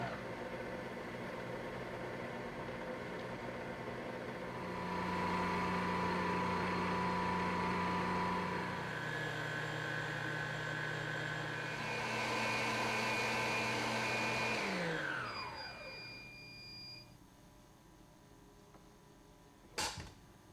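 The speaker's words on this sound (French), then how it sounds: "nous allons fixer notre fouet du chef et mélanger en commençant par régler à la vitesse 1 et graduellement augmenter à la vitesse 12" A Cuisinart stand mixer fitted with a chef's whisk whips chocolate frosting, a steady motor whine that rises in pitch as the speed steps up, then winds down and stops, followed by a sharp click near the end.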